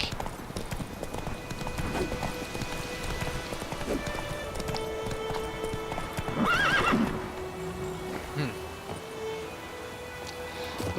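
Roach the horse clip-clops steadily across ground in The Witcher 3, with one clear whinny partway through and faint game ambience behind the continuous hoofbeats.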